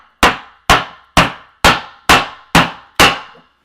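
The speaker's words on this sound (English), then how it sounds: "And just hammer it down." Seven sharp, evenly spaced hammer blows strike a piece of plywood laid over alcohol stove parts to press them together, each a loud close knock with a quick ringing decay.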